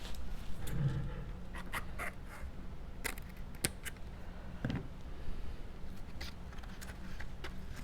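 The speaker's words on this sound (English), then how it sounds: "I made it too long, so I'm going to just snip this off" Scissors snip off excess paper from a handmade candy wrapper, a few short crisp cuts among soft paper handling and rustling close by.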